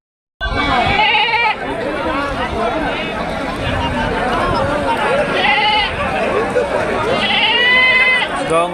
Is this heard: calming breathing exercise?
no